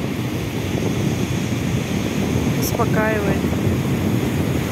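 Sea waves splash and wash onto the shore in a continuous broad roar with wind buffeting the microphone, while a voice speaks briefly over it.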